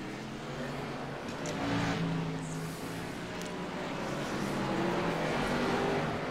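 Video game race car engines at Richmond Raceway roar continuously as a pack of cars drones past together, a steady, loud mechanical whine with shifting pitch.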